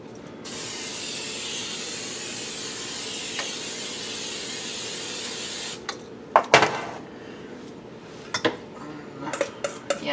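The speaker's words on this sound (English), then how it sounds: "It says to grease the pan. I'm going to use some Mazola." Mazola cooking oil sprayed onto a pan for homemade pizza dough: a steady, close hiss lasting about five seconds, then sharp clinks and clatters as the pan is handled.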